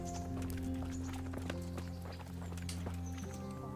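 Horse hooves in the medieval video game Kingdom Come: Deliverance, a steady rapid clip-clop of a running horse over a constant droning musical or ambient bed.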